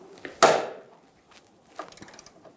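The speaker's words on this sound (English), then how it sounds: "we're going to break the bolt free" An 18mm socket breaks the control arm bolt free on a 2000-2007 Ford Focus, one sharp loud crack of metal, followed by faint scraping and small clinks nearby.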